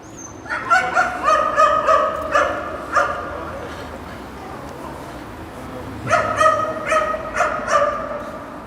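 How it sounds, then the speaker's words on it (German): A dog barks in two rapid bursts of repeated woofs separated by a quieter stretch, fairly close, at the foggy Hamburg harbour near the Speicherstadt, with faint background noise between bursts. "Kann man den Hund hören?"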